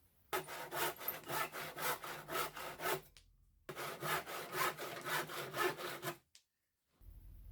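A hand saw trims the leg of an old A-frame timber ladder in two long runs of rhythmic, rasping strokes, close and clear, separated by short pauses, with no talk.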